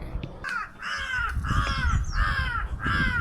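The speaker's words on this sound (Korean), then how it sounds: "왜 이래 까마귀 싸운다" Several crows caw harshly and repeatedly near Annapurna in the Nepal Himalaya, squabbling in loud rasping bursts of roughly even rhythm, close by, over faint background noise.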